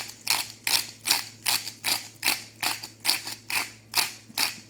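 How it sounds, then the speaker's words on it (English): A noisy pepper mill grinding black pepper gives about a dozen rhythmic, evenly spaced crunching rasps, close and fairly loud with no talk between them. "A noisy mill."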